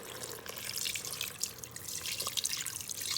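A cup and a half of water is poured into an Instant Pot over seasoned pork for carnitas, giving a short, continuous splashing trickle at close range with no talking.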